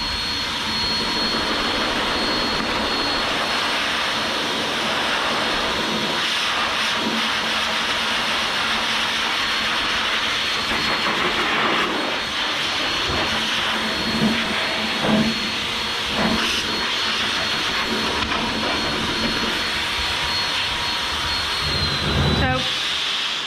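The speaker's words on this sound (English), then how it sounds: "Just turning the pressure right down on my dryer so that I can try and blow her face." A dog grooming blow dryer, pressure turned down, drying a piebald Siberian Husky, roars steadily throughout, a loud continuous whooshing hiss with slight fluctuations and a few brief knocks near the end.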